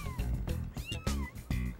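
Newborn kittens from a litter of five meowing in quick succession, several high, thin, wavering cries overlapping closely and continuously, near and fairly loud.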